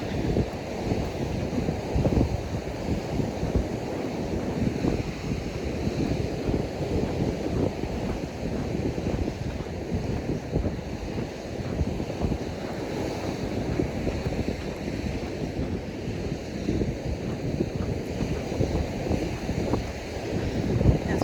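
Steady wind buffets the microphone during a walk along a beach at Washington Oaks Gardens State Park in Palm Coast, Florida, a constant loud low rumble with surf blended underneath and no talking.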